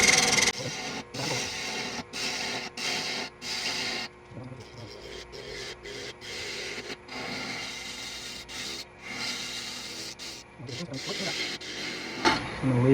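Apple wood turning on a wood lathe at 1200 RPM, a steady rubbing, rasping scrape from the tool cutting the dry wood, broken by short pauses, with close, loud motor hum underneath.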